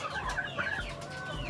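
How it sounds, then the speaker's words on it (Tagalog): A sick, weak chicken clucks softly nearby in short, throaty bursts, with a faint background hum and no voices. "Ito po yung manok po na may sakit"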